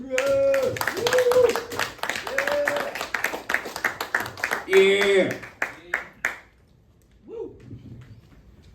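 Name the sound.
audience applauding a comedian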